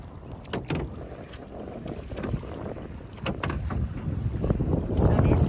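Wind gusts across Sharbot Lake while a small fishing boat sits on the water, a steady rushing roar with microphone buffeting that grows louder toward the end, and people talking faintly underneath.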